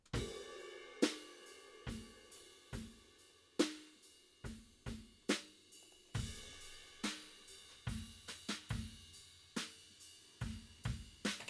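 Drum room mics, mid and side, run through the Waves Magma channel strip: a spacious kit groove with punchy kick and snare hits ringing into the room, steady rhythm, fairly quiet and without voices.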